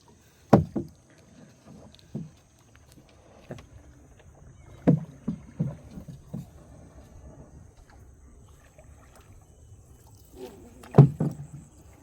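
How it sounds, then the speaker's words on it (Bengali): A wooden boat is rowed in the Bangladeshi countryside, with irregular close knocks and splashes of the oar against the hull and water separated by quiet gaps. "দেখেন কিভাবে নৌকা আমি চালাচ্ছি"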